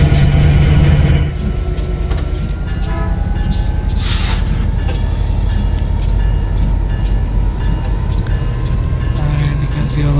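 An MP36PH-3C Metrolink diesel locomotive in Train Sim World 5 builds speed with a loud, steady engine drone and rolling rumble, sustained throughout with a few sharper mechanical clanks over it.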